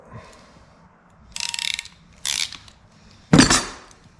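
Ratchet wrench cranking down a one-way fuel line fitting on a 1985 Chevrolet C10 with a 5.3 LS swap, giving three short bursts of clicking, the last one loudest, with quiet pauses between.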